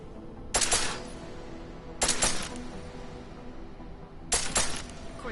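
Gunfire in the video game Deus Ex: Mankind Divided comes in three sharp, loud bursts spaced a couple of seconds apart, each a quick rattling volley over a low background hum.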